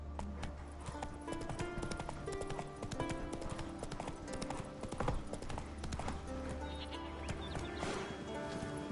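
Roach the horse, ridden in The Witcher 3: Wild Hunt, clip-clops steadily along at a riding pace, the hoofbeats up close and continuous over game music and ambient layers with no talk.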